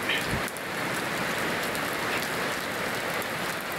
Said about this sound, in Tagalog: Kasi hindi natin alam tong ulan kung magtuloy-tuloy pa to.